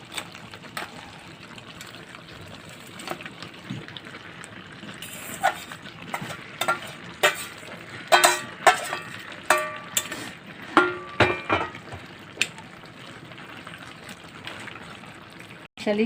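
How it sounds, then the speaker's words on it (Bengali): Fried fish heads stirred into a mixed vegetable ghonto, wet squelching and clacking of a spoon in a thick pot, quiet at first and then a busy run of clinks and scrapes. "এবার দেবো ভেজে রাখা মাছের মাথাগুলো।"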